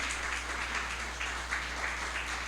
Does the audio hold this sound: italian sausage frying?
no